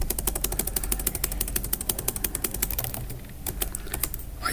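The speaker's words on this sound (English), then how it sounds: "I typed the name wrong" Rapid, close typing on a computer keyboard while writing Python code, with crisp, evenly spaced key clicks in a fast steady rhythm, a brief slower patch near the end, over a low background hum.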